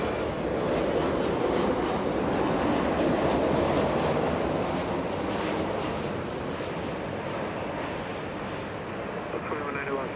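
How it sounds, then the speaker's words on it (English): Southwest Airlines Boeing 737-800 arriving from Sacramento at Los Angeles International Airport, a steady broadband jet roar holding for the whole stretch and fading slightly near the end, with a voice talking over it. "Southwest 733 flying in from Sacramento, California. 1 hour off flight time. 737-800."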